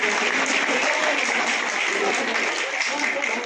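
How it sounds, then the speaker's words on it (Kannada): A crowd at a felicitation ceremony for guests and artists claps in a dense, steady roar of applause that holds evenly throughout, with some voices mixed in. "ಚಪ್ಪಾಳಿ ತಟ್ಟ."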